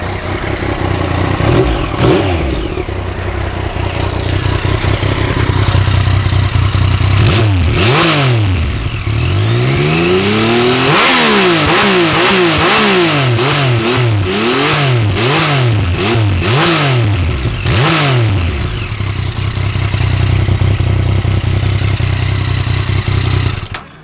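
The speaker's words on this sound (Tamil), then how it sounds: "எக்ஸாஸ்ட் நோட் வந்து அந்த ரம்பிளிங் சவுண்டு சூப்பராக இருக்குது" A Yamaha MT-09 motorcycle with a crossplane engine revs repeatedly, its rumbling exhaust note climbing and falling in a series of loud throttle blips close by, with the engine idling between them and no talk.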